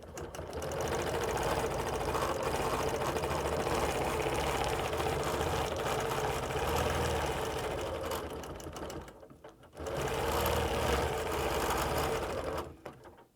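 A sewing machine quilting circles guided along a ruler, a close, steady motor whir running continuously with one brief pause before resuming and stopping at the end.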